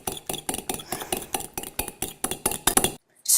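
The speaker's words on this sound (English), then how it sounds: "Of course, everyone knows how to beat an egg." Rapid clinking of a fork whisking an egg in a bowl, a steady quick rhythm of bright taps for about three seconds before stopping, close and fairly loud.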